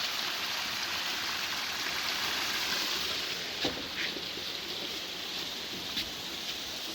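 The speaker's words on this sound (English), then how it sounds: "And the water just comes from top of the mountain." Mountain stream in the woods of Velocity Basin, water flowing in a steady close rush with a few brief splashes standing out, no voices.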